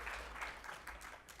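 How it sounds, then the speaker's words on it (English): A conference audience at a fintech summit gives a round of applause for the panelists, a dense, steady wash of clapping that is faint and brief. "round of applause for our panelists."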